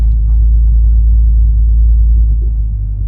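A manual-transmission car's engine rumbles low and steady while moving off in first gear with the clutch up and light throttle, close and continuous with no talk.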